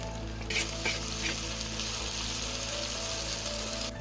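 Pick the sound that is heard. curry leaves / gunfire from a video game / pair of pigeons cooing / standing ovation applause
curry leaves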